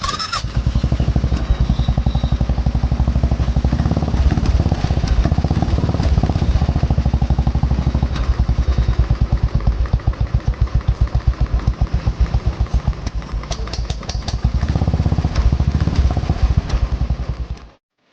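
A Royal Enfield Classic 500 single-cylinder motorcycle, newly converted from fuel injection to a carburetor, starts and runs steadily up close, a loud even thumping beat with rising revs near the end before it cuts off abruptly.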